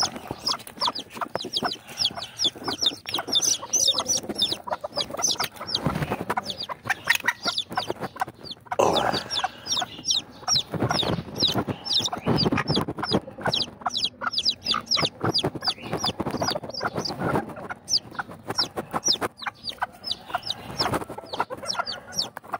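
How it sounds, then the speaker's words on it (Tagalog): A bantam hen with three newly hatched chicks, giving repeated soft clucks close by mixed with a busy stream of high chick peeps, irregular and steady, with no one speaking. "kunin na natin itong 3 sisiw"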